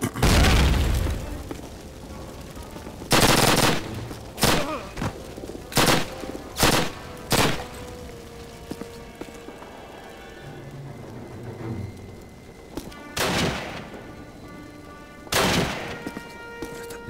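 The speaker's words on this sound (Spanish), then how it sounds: "Disparando desde aquí." Call of Duty gunfire rings out in loud, separate shots and short bursts with booming impacts, spaced irregularly across a quiet in-game background.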